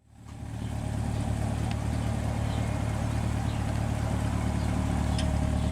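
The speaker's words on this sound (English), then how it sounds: "Quad exhaust." A 2023 Chevrolet Corvette Stingray's 6.2-liter LT2 V8 idles with a steady low burble from its quad exhaust, fading in and then holding an even, throaty rumble.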